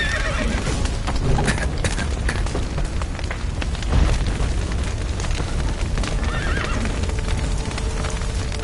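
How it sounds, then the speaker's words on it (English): A horse in The Witcher 3 whinnies while hooves clip-clop over a dense, busy game soundscape with rumbling booms, loud and continuous throughout. "The horses!"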